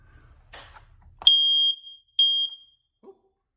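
A smoke alarm sounds two loud, piercing high-pitched beeps, each about half a second long, after some brief handling noise.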